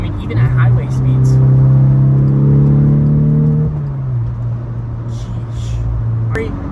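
A Volvo P3 car engine accelerating hard as it climbs in pitch, a loud, steady drone from nearby that drops and settles to a lower hum.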